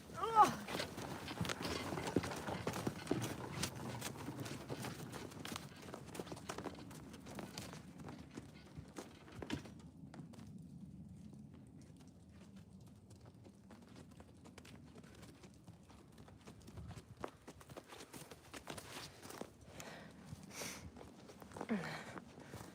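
Repeated hoof clops on hard ground, uneven and close, mixed with shuffling and occasional faint bird sounds.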